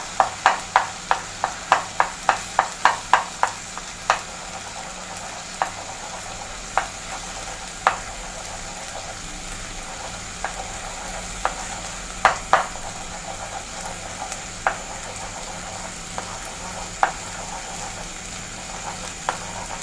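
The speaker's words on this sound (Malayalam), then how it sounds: "ഇനി നമുക്ക് മുട്ട ചെറുതായിട്ടൊന്ന് ഇളക്കി കൊടുക്കാം" Eggs frying in a pan for idli uppuma are worked with a spatula: a quick run of sharp, evenly spaced taps opens, then scattered knocks continue over a soft, steady sizzle.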